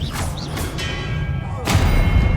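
A spell cast in the Hogwarts Legacy video game lands as a couple of dull magical thumps and booming whooshes, the last one louder and fuller, over a steady layer of game ambience.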